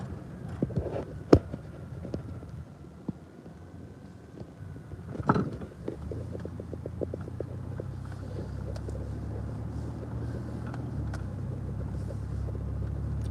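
A road vehicle drives along a road at up to about 40 miles an hour, keeping pace with a truck and taking turns, giving a steady close engine rumble with wind buffeting and a few sharp knocks, no talk.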